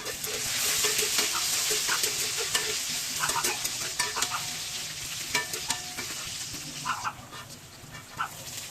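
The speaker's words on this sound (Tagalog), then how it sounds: "Maglalagay tayo ng mantika. Magigisa tayo ng bawang." Garlic sautéing in oil in a pan gives a loud, close, continuous sizzle with frequent scraping stirs. A dog barks in the background.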